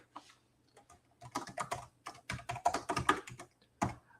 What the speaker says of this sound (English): I could go over here and start typing out name.